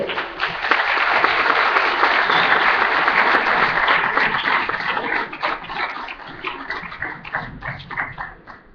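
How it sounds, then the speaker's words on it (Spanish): A seated audience at an academic forum breaks into strong, sustained applause to welcome a speaker, dense clapping that holds steady and then thins and fades toward the end. "con un fuerte aplauso"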